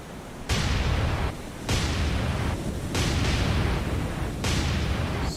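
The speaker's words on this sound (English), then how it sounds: "Why are they still firing?" Heavy naval guns boom in repeated salvos during a War on the Sea battle, each blast landing as a loud broadband burst about every second and a quarter, overlapping into a continuous roar.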